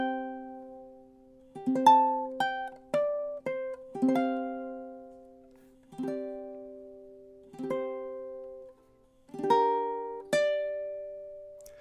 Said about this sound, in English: So these first 4 bars together, really, really slow, should sound something like this.